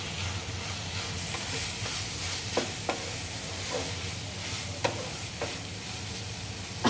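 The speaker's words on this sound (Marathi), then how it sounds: "पुन्हा एकदा मस्त मिक्स करायचं आहे भाजी" Kantoli vegetable stirred with garam masala in a hot pan, a soft continuous sizzle with scattered light scraping clicks from the spoon, fairly quiet, with no talking.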